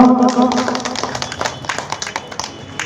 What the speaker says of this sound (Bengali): একটু জোরে করতালি সবাই মিলে বিরাজদার জন্য